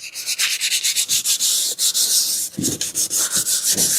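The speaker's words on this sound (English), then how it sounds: "we'll hit the sanding sponge" Quick, rhythmic scrubbing strokes of hand sanding with a sanding sponge, close and steady, with brief pauses between bursts of rubbing.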